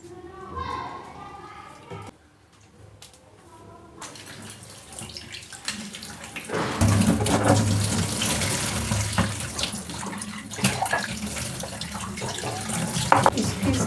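Tap water runs steadily into a sink while potatoes are rinsed, a continuous splashing wash that grows louder partway through, with a voice talking over it.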